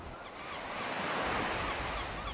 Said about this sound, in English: It is surrounded by Indian Ocean.